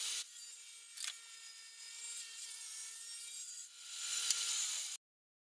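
A saw cuts through wood while making a pattern, a steady, close, rasping cut that holds at even loudness and swells near the end before stopping abruptly.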